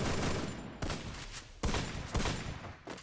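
Rapid bursts of automatic gunfire from the video game Free Fire, close and loud, in three or four sustained volleys separated by brief gaps, with no talk over them.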